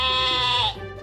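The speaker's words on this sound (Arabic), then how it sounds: "sheep," A single sheep bleats loudly and close by in one sustained, quavering call that cuts off after under a second, leaving a quieter tail.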